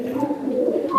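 A pet pigeon of the Andhra or Fulsira breed gives a single short, close, throaty coo.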